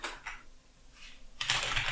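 Keys clatter on a computer keyboard in short bursts of quick, faint tapping with a brief pause between them, close and quiet with no talking.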